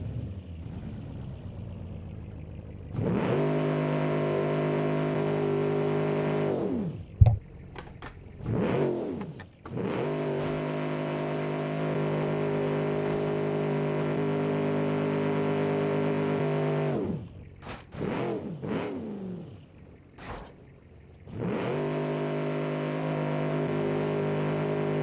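W-250 truck engine in the Automation and BeamNG driving games revving hard in long sustained bursts, strong harmonic drone rising and falling, broken by short pauses and clunks between pulls.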